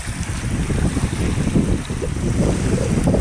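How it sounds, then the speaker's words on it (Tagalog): Rough, whitecapped sea churns around a small fishing boat near Masula Island, a steady rushing roar of waves and wind buffeting the microphone, with no talk. "Malakas ang dagat, oh. Namumuti doon, oh."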